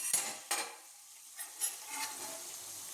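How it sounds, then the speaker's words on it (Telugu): Chicken deep frying in a pan is stirred, a soft, steady sizzle broken by a few close scraping strokes of a utensil against the pan. "ఇది కొంచెం సేపు కుక్ చేస్తాను ఎందుకంటే కొంచెం డీప్ ఫ్రై చేద్దామని"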